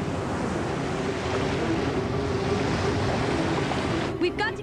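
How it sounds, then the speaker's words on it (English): Tidal wave rushing in as an animated series effect, a loud continuous roar of surging water that holds steady and then breaks up slightly at the end. "It's a tidal wave!"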